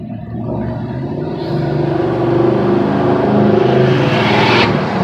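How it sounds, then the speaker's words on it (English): Two trucks chasing each other aggressively along a road, a loud, sustained engine roar and road noise that swells and grows closer over several seconds, heard from inside a nearby vehicle with no talking. "Oh my God, this is 2 trucks chasing each other."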